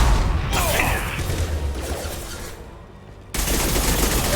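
An impact shot fired from a weapon in Mass Effect 2, with bursts of loud gunfire and crashing impacts amid battle noise, a brief lull, then a renewed blast of combat sound.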